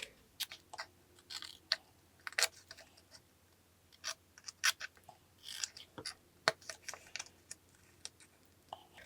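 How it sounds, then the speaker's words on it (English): Small scissors snip paper tabs for a miniature Easter basket craft, a series of sharp, close clicks and cuts in an irregular rhythm against a quiet room. "take your scissors and cut tabs"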